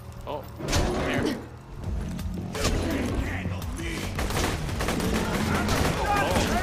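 Automatic gun fire in the video game Borderlands 2, rapid bursts of shots with thumps and mechanical clatter amid game chaos, fairly loud and near, with a voice briefly over it.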